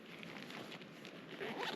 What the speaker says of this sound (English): I can just zip the bug net up